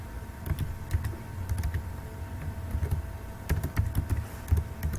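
Fingers type rapidly on a computer keyboard while entering data into an MS Access database, irregular clicks and taps close up over a low steady room hum, with no talking.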